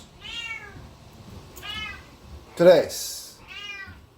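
A cat meows loudly three times in drawn-out, wavering calls, close by, with a brief spoken word between the cries.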